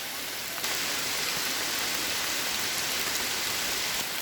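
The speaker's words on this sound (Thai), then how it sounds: "แต่ตอนนี้นะครับบรรยากาศทำมกลางใส้ฝนกำลังตก นักพอสมควรนะครับ" Steady rain pouring down outdoors at a red building, a dense, even hiss of drops that stays constant and fairly loud throughout with no voices.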